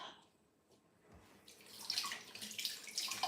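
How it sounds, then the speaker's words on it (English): Tap water runs as someone washes their hands in a home kitchen while baking bread. It is quiet at first, then the splashing swells into a steady, nearby gush. "Wash my hand up."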